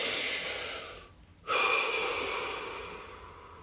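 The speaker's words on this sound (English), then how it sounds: "Deep breath." A slow, deep breath drawn in and released during a guided relaxation session, filling most of the clip with soft airy noise that drops out briefly near the middle before resuming.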